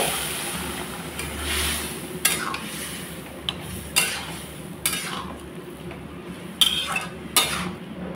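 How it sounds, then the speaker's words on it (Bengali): Split chickpeas (chana dal) go into a cooking pot, a soft rustle and low frying hiss followed by several sharp metallic clinks and scrapes of a spoon against the pot, close by with no talk. "এখন ছোলার ডালটা দিয়ে দিলাম।"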